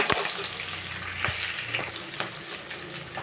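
Green chillies crackle in hot tempering oil for curd rice, a soft close sizzle with scattered sharp pops and stirring clicks, fairly quiet, no voices.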